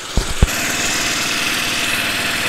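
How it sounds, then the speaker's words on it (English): Small engine of a radio-controlled garden tractor running steadily and close, a couple of brief knocks at the start before the continuous mower-like drone settles in. "So here's the radio-controlled garden tractor project."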